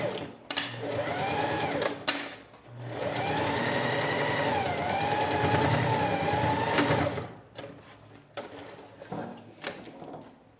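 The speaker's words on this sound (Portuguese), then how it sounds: "E vou costurando." A sewing machine stitches a clear crystal plastic pouch, running in steady bursts with a long continuous run in the middle, close and loud, separated by brief pauses.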